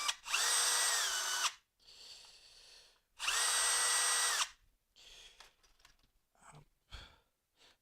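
During the teardown of a blood analyzer, a power tool unscrews a part in two loud, close whirring bursts about a second and a half each, with a slight pitch shift. Softer handling noises and clicks follow.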